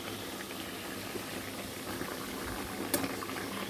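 Okra curry with whole amchur simmers in a pot, giving a soft, continuous bubbling with low burbles and a small splash or clink near the end, fairly quiet and close.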